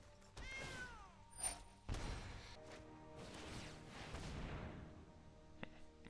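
A cat meows as a game sound effect in MTG Arena, set against a dense, busy mix of card-game effects and impacts, with no talking.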